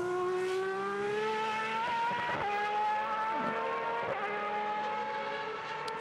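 Superleague Formula race car lapping a circuit in qualifying, its engine a loud continuous high-pitched whine that rises and drops sharply through gear changes, heard steadily from on board with no talk.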